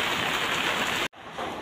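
Heavy rain pours steadily in strong wind, a loud dense hiss that cuts out abruptly for an instant before the downpour resumes.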